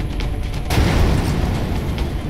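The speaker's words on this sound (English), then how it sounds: "Yeah, that explosion was awesome." A loud explosion bursts out in the XCOM video game, a sudden boom at about 0.7 seconds followed by a sustained rumbling roar that stays heavy and dense to the end.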